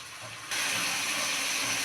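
A splash of water poured into a hot pan of frying katla fish head and rice, erupting into a sudden loud steamy hiss that holds steady after a quieter start.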